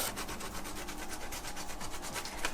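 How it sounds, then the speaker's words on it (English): Tomatoes are rubbed against a sharp grater while making traditional Moroccan harira, giving a quiet, continuous rasping scrape with a fast, regular back-and-forth rhythm and no voices. "So now we're grating our tomatoes"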